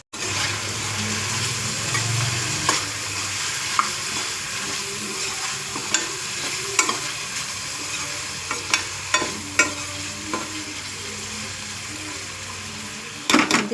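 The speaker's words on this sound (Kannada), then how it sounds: "ಇದು ಸ್ವಲ್ಪ ಬೇಯಲಿಕ್ಕೆ ಬಿಡೋಣ" Potato kurma masala with salt, turmeric, chilli and garam masala being stirred in a pan, a steady sizzle of frying broken by repeated scrapes and knocks of the spoon against the pan, close and fairly loud, with no talking.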